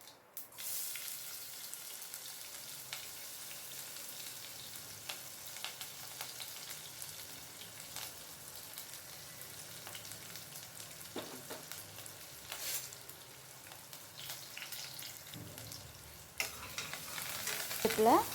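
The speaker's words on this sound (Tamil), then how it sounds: "இதுக்கு கூட கடுகு, கருவேப்பிலை, பெரிய வெங்காயம் போட்டு நல்லா வதக்கிக்கோங்க." Steady, quiet sizzling and stirring of mustard seeds, curry leaves and large onion frying in oil in a pressure cooker, continuous with occasional scrapes and clicks, no talking.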